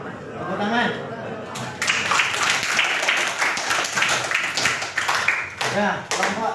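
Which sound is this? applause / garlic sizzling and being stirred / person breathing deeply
applause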